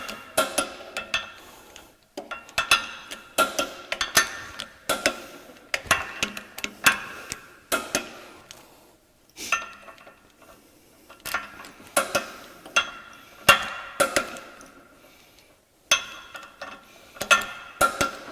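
A torque wrench on the differential bolts of a Ford F-150 8.8 rear axle during a re-gear, a long run of close, sharp metallic clicks in uneven bursts with short pauses between bolts, and no talk.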